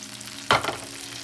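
Tomatoes dropped into a pan of caramelizing vegetables, a sudden loud burst of sizzling that quickly settles to a softer hiss, close and without talk.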